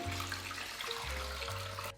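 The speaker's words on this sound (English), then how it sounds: "I'm going to pour the filtered water in" Filtered water pours into a Ninja pressure cooker over bones for broth, a continuous splashing flow with low gurgling tones and no speech.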